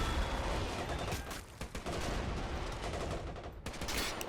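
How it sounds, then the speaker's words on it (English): Thompson submachine gun fire in a World War II war video game set at the siege of Tobruk, dense rapid bursts amid a continuous roar of battle gunfire. "Oh, there goes that Thompson again."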